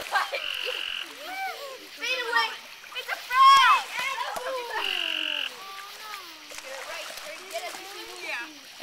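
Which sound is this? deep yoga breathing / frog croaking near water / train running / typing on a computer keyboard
frog croaking near water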